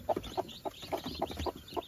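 A hen clucks beside newly hatched chicks whose down is still wet, short repeated clucks coming in an even rhythm about every quarter second, close and fairly loud, with soft high peeping above.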